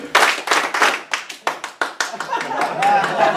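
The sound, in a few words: rhythmic clapping in a classroom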